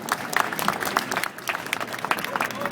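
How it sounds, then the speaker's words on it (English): Audience applause welcoming a dancer onto a stage, a steady wash of clapping lasting a few seconds at moderate volume with a little crowd noise mixed in. "How about a round of applause?"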